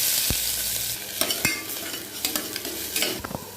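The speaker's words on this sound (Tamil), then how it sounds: "நல்லா வெங்காயம் பொன்னிறமாக வதங்கட்டும்." Onion frying with cardamom, bay leaf and fennel seeds in a pressure cooker, a steady bright sizzle with several sharp scraping stirs of a spoon against the metal, close and alone.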